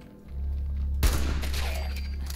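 In the video game Fallout 76, a low engine-like hum gives way to a sudden sharp gunshot burst, followed by a rattling spray of gunfire and echoing tail, no talking.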